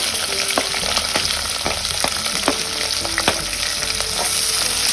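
Continuous close sizzle of long-sliced onions frying in a pan for mushroom biryani, broken by several sharp scrapes and clicks of stirring, no talking.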